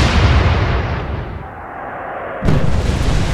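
A heavy naval gun blast from a warship in the Atlantic Fleet game booms out, its roar fading into a dull rumble before a second sharp, loud report erupts and sustains, with no talk.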